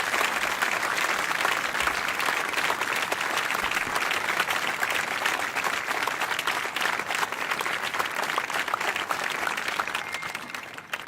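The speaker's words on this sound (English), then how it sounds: "just a round of applause to you guys" A crowd applauds steadily and loudly for about eleven seconds, a dense wash of many hands clapping with no pauses, fading slightly at the end.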